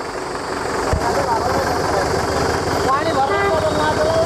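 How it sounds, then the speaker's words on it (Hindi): A tractor carrying a DJ speaker setup on a kanwar yatra route passes close by. Its engine makes a continuous loud drone mixed with street noise, while someone talks over it. "यहाँ से निकलता हुआ ट्रैक्टर"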